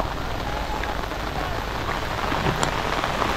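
Heavy nonstop rain pouring onto surfaces beside a flooding fishpond, a dense steady hiss of drops close by with no break.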